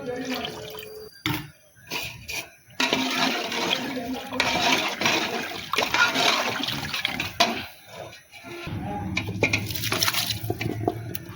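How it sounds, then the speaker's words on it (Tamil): Water runs and splashes steadily into a pot of tamarind curry for several seconds, with a brief pause midway and faint kitchen clatter around it. "தண்ணி மட்டும் லைட்டாக ஊற்றிக்கோங்க."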